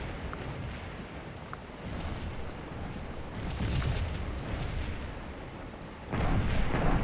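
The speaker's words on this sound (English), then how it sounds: "Victims of the massed artillery." Massed cannon fire in a Gettysburg battle video game booms repeatedly as overlapping artillery blasts with a rolling low rumble, a heavier burst near the end, and a loud, dense battlefield din.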